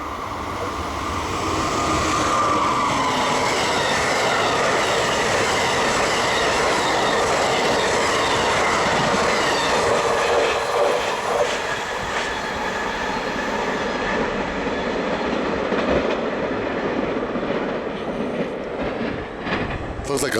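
A MARC commuter train, on loan to Amtrak, rolls past Perryville Station in Maryland on a foggy January day: a loud, continuous rumble with rail clatter and wheel squeal holding steady for the whole stretch, no voices.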